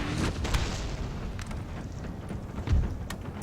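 Heavy cannon booms thud repeatedly at a distance in the video game Napoleon: Total War, rumbling over a constant battlefield din with no voices.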